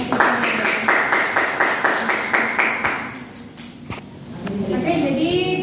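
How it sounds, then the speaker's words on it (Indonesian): Classroom applause for a presenting group during a micro-teaching lesson, a steady run of rhythmic group clapping that fades after about three seconds, followed by murmuring voices and someone talking. "Beri tepuk tangan untuk kelompok yang telah menyampaikan."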